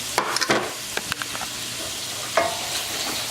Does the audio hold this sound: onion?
yes